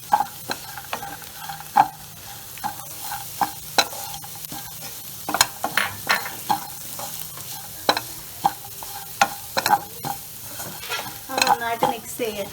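Coconut pieces being stirred into a Kerala-style beef roast masala in a pan, with repeated sharp scrapes and clinks of the spoon in an irregular rhythm over a soft sizzle.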